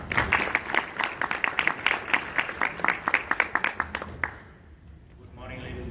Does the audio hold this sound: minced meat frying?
no